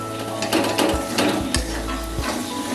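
Lentil fritter gravy being sautéed on a low flame, a steady sizzle with scraping, stirring strokes of a spoon against the pan and occasional knocks, close by, over a low background hum.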